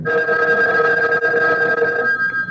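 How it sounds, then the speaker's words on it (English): An old-fashioned telephone bell rings in a continuous loud metallic trill, close and steady for a couple of seconds, in the setting of a radio mystery drama. "Answer it, Alice."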